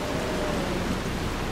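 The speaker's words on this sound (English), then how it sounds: "And it's raining!" Steady, dense rain hisses without a break in Resident Evil 4, a continuous wash of falling water with no voices over it.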